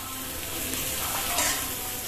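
Taro root (arbi) frying in hot oil gives a steady, close sizzle with constant crackle and no breaks, loudest briefly near the middle and otherwise even and unbroken.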